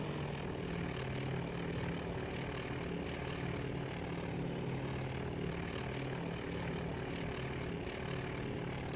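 A propeller aircraft dives in the Task Force Admiral naval combat game, its engine a steady, loud droning hum that holds throughout without a break.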